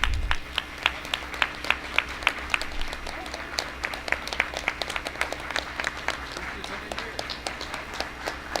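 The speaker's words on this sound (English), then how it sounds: "Let's give them a round of applause." Audience at a school board meeting claps in a brisk, sustained round of applause, many hands close by, continuing evenly throughout.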